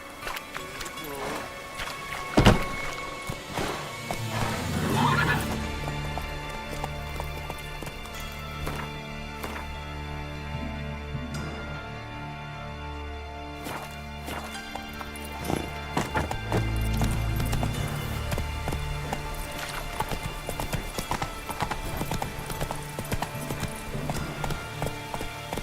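Horse hooves clip-clop in a steady walking rhythm during a ride, fairly close and continuous, with a brief neigh and occasional rustling and knocks mixed in.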